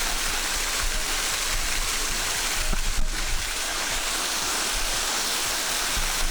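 Rock River Falls pours in a dense, steady rush of water, loud and continuous throughout with a brief splash near the middle, no voices over it.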